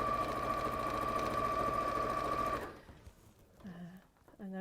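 A sewing machine stitches quilt blocks together for a star quilt, running in a steady, fast whir for about two and a half seconds before stopping, then talking follows.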